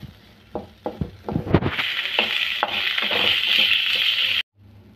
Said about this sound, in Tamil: வெங்காயத்தை வதக்கி அரிக்கணும் நல்லா வதக்கணும் வெங்காயம்